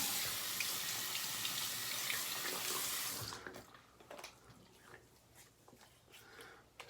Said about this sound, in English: just putting a little bit of water back in my face